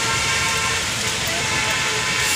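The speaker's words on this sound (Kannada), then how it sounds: "ಫುಲ್ ಮಳೆ ಬರ್ತೈತೆ ಆದರೂ ತೋರಿಸ್ತೀವಿ." Heavy rain pours down outside a Hanuman temple, a dense loud steady hiss of rainfall with faint traffic noise mixed in.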